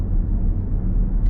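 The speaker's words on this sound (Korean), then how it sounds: "이 엔진 소리가 은은하게 들려옵니다." BMW X5 engine heard from inside the cabin while driving, a soft low steady hum with muffled road rumble, continuous and subdued for a brief moment.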